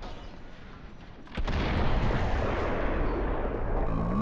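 Gunfire in the tactical shooter Valorant, a loud sustained burst that starts abruptly partway through and continues steadily to the end, with no talking.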